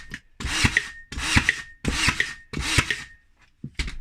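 A Ryobi R18N18G cordless 18V nailer fires in burst mode: four evenly spaced, loud mechanical bursts about 0.7 seconds apart, each with a short motor whine. A fifth shot starts at the very end.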